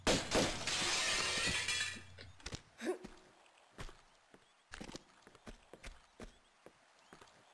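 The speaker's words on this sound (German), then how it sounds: "Ich kann wahrscheinlich da das Fenster durchschießen." A gunshot shatters window glass in Tomb Raider II Remastered: a loud crash lasts about two seconds, followed by scattered sharp clinks and light taps from falling fragments.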